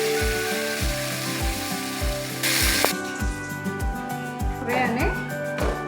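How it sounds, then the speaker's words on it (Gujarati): Spinach puree hits a hot pan and sizzles with a broad, hissing fry, heard under steady talk and a rhythmic thumping backing beat. "હવે આપણે પાલકની પ્યોરી નાખી દઈશું."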